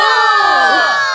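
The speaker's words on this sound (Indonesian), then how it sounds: "Kazuhiko mimpin sorakan semangat, dan semuanya teriak" A group of anime characters lets out a rallying cheer together, a loud, sustained crowd shout of overlapping voices that holds steady for about a second before sliding down and fading slightly.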